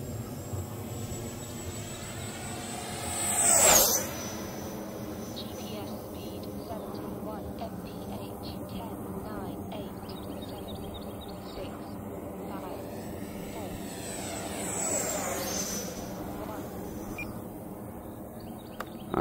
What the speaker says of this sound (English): I don't know if you guys can see that big jet up there.